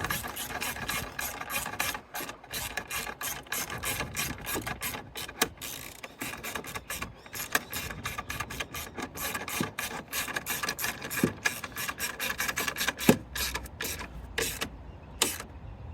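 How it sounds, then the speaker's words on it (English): A hand ratchet tightens a clamp on a cold air intake kit fitted to a 2021 Hyundai i30N DCT, making rapid close clicking strokes in steady bursts that repeat throughout. "Tighten this one up."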